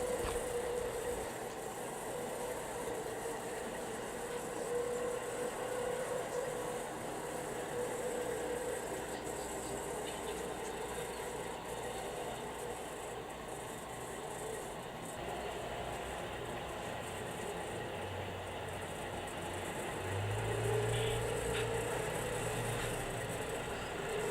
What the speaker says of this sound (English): Train 202 now heads downgrade past Damside Junction and over Zayante Creek before passing through Fallon.